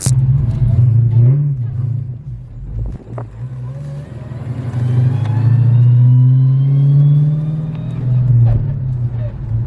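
A Dodge Hellcat with a stick shift drives and cruises, its engine giving a loud, steady low rumble that swells as it accelerates and revs up through the middle and later part.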